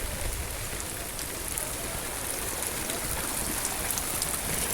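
Heavy tropical rain pours down steadily in Manaus during flooding, a dense unbroken hiss of downpour on surfaces that stays constant and fairly loud throughout, with no clear voices.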